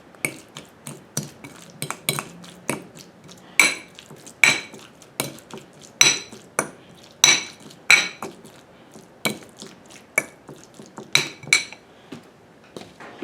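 Metal utensil scraping and clinking against a bowl while mixing guacamole, a steady run of sharp taps and scrapes at close range with no voices.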